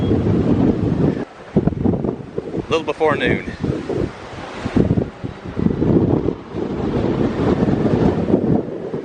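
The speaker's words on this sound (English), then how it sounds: "Man, the wind. It is relentless." Strong, relentless wind buffets the microphone on a quiet downtown street in Omaha, Nebraska, producing loud, gusty low rumbling that rises and falls throughout while someone talks over it.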